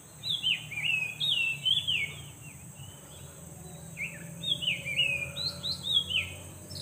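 Small birds chirp and tweet in quick, bright bursts against a quiet outdoor background with a faint steady hum.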